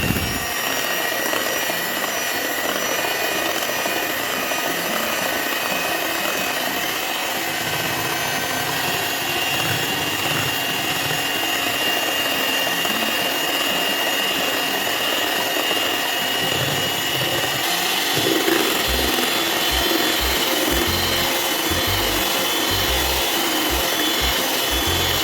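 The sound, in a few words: electric beater whipping cream for mango ice cream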